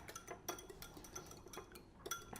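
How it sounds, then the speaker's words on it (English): Egg yolks whisked in a bowl alongside cheese, a quick series of light metallic clinks and scrapes with a steady tapping rhythm, close and fairly quiet, with no talking. "a nice little whisk, get the yolk all involved in that"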